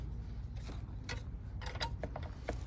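A ratchet loosens 10mm bolts on a Nissan Altima battery in a scrapyard, making a quiet run of short clicking bursts at close range.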